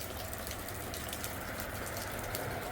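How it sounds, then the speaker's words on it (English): Light rain falls steadily on a forest trail in North Carolina, a continuous soft hiss of drops pattering on leaves and surfaces, even and close all around, with no voices. "It's not raining hard by any means, but water is definitely falling from the sky."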